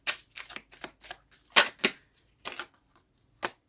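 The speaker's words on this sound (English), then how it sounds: "I'm going to pull a couple more cards" Tarot cards being shuffled and handled, a run of quick crisp riffling slaps and snaps close up, irregular bursts that thin out toward the end, with no talk.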